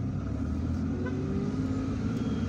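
A car driving through the streets of Algiers toward El Madania, a continuous low engine and road rumble heard from inside, steady and fairly loud with faint traffic noise and no speech.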